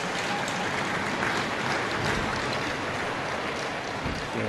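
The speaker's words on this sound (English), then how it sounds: "nice applause for the injured number Tri-Town 5. player" Crowd applause at an ice hockey game honoring an injured Tri-Town player, a steady dense wash of clapping throughout without pause.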